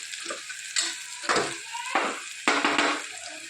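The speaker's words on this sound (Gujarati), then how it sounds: "બધું સરસ આપણે સોટે કરીએ" Green chillies, red chilli powder, turmeric and asafoetida with whole cinnamon and cloves sizzle steadily in a pan, broken by several sharp scraping stirs of a spoon, with no voices.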